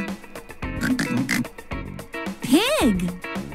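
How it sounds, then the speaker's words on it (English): Pig oinking in a children's animal song, with short grunting snorts mixed into music and a sliding rising-falling voice-like squeal near the end. "Pig."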